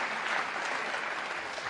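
Dense audience applause fills a brief stretch, a steady wash of many hands clapping at even loudness with no voices on top.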